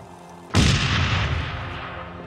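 A grenade explosion from the video game Halo Reach: a single sudden, loud boom after a brief quiet lead-in, followed by a long rumbling, decaying tail that fades gradually.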